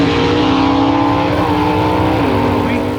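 Gasser drag race cars at KilKare Dragway in Xenia, Ohio, roar loudly and steadily as they launch, their engine pitch climbing and shifting through gear changes, with voices talking over the noise.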